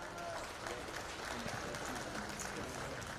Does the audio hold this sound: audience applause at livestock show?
yes